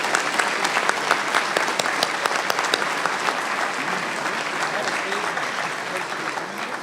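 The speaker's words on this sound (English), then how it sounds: "A big round of applause for all of the candidates." Loud, dense clapping from a seated audience at a Conservative Party of Canada leadership debate, welcoming the candidates in a steady burst that fades slightly toward the end.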